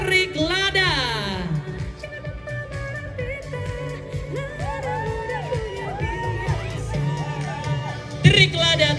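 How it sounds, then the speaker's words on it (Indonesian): Crowd at a Toraja fashion festival in Makale cheering and whooping over an announcer's voice and background music, with a brief louder burst of cheers near the end. "Tepuk tangan dulu untuk Tirik Lada."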